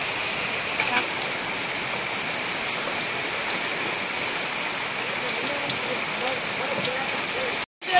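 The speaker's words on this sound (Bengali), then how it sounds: "বৃষ্টি পড়ছে দেখুন" Rain falls steadily in Kolkata, a dense, even hiss of drops on surfaces that carries on without pause, broken only by one very short dropout near the end.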